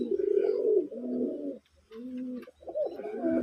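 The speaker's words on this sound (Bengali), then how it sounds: "অনেক সুন্দর মার্শাল্লাহ কবুতরগুলি" Red desi Raj Golla pigeons coo close by in repeated low, throaty phrases, each rolling call broken by short pauses, with no other sounds.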